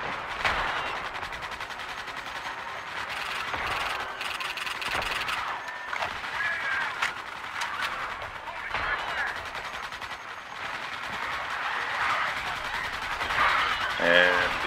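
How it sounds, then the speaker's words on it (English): Sustained weapon fire in the Starship Troopers video game, a dense, continuous rattle of shots with bug-battle noise and a brief voice mixed in. "you could hear the sound of the weapon fire changed"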